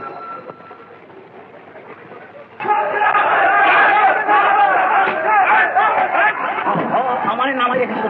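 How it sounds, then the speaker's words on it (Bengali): A train rolls and slows at a stop, with a rumbling carriage hum under a loud crowd of passengers chattering and laughing nearby. "ট্রেন থামে কেন?"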